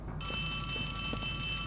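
An old telephone rings in the Poppy Playtime video game, a sustained bright electronic ringing that starts abruptly and continues loudly without pause over a dull rumbling background.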